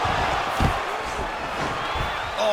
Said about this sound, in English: nice pop there from the crowd as he finally gets the takedown